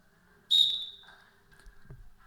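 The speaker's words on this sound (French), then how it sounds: "j'ai attendu le coup de sifflet" A single sharp, high referee whistle blast at a precision shooting competition sounds once and quickly trails off, followed by faint background noise.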